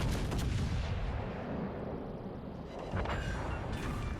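Battleship broadside gunfire from the Kansas in World of Warships Legends, heavy booming salvos with a rumbling tail, a big blast at the start and another around three seconds in, with no talking.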